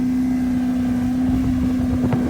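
An old Johnson B4 outboard motor chugging on the Colorado River, a steady loud engine drone with wind noise buffeting the microphone, no talking.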